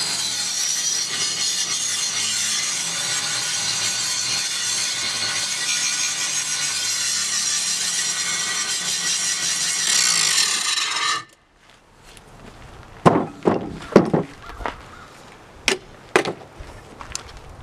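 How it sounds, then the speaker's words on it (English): Power grinder putting a bevel on the mating edges of steel parts for a DIY Mantus-Rocna anchor clone, a steady harsh rasp held close and loud for about eleven seconds, then cutting off abruptly, followed by a few sharp metallic knocks. "grinding a bevel along the edges of the mating edges here of the different parts where they're going to go together"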